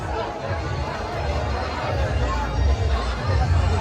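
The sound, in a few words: crowd chatter in a temple courtyard at a festival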